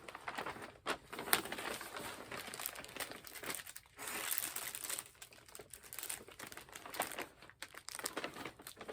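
A crinkly plastic shopping bag from a needlework shop rustles and crackles in bursts as it is handled and set down close by, fairly quiet, with no talking.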